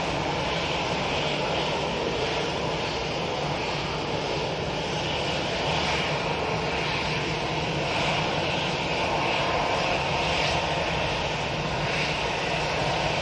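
Airliner engines roar at an airport, a loud broad drone that holds steady throughout with no break and no voices.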